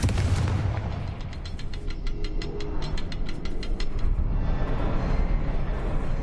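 Incendio and Confringo spell blasts explode in Hogwarts Legacy, a rapid run of sharp booming bursts that fire in quick succession before fading into a rumbling, crackling background.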